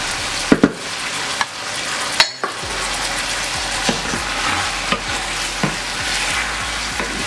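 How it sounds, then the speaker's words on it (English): Oxtail stew with vegetables and carrots sizzles in a pot while it is stirred, with a steady bubbling hiss broken by occasional sharp scrapes and knocks of the spoon. "Pretty much just let it cook up together."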